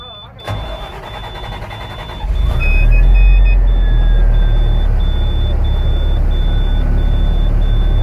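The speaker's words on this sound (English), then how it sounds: "So now I'm about to start my vehicle to build up air pressure." A Class B truck's engine cranks and starts, then settles into a steady, loud, close idle rumble with a faint high warning tone running over it, building air pressure for the brakes.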